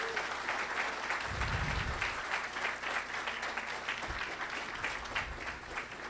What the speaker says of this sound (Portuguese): Então, por favor, uma salva de palmas para o governo de Goiás.